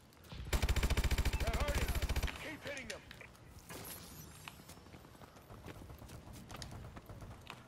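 Rapid machine-gun fire in Call of Duty Advanced Warfare multiplayer, a dense loud burst lasting about two seconds, then scattered shots, footsteps and game effects continuing at a lower level.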